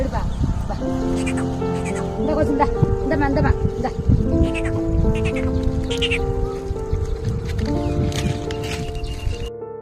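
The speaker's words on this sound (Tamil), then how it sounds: "அவங்க கூப்பிட்ட உடனே அந்த ஆடு வந்து பக்கத்துல வருது" Goats bleat in a steady stream of overlapping cries while people nearby call to them and talk throughout, the animals close and loud against a busy outdoor background.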